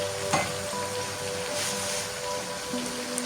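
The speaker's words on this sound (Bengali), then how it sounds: "কচু ছড়াটা একটু ভাজতেছি হালকা করে" Taro stolons frying lightly in the oil left from cooking hilsa fish, a steady close sizzle and crackle throughout with faint stirring taps and no talk.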